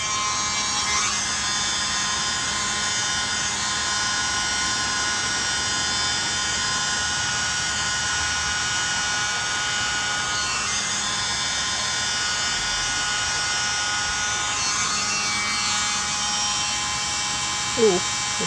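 A mini leaf blower pushes paint across a Dutch pour painting, giving a steady, even whine that runs the whole time at moderate loudness, with brief bumps in pitch and a faint noise near the end.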